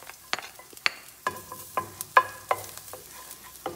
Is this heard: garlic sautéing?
yes